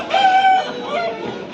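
A rooster crows once at a Sunday chicken market in Pileru, among aseel fowl, with a long held note over busy market murmur and distant clucking.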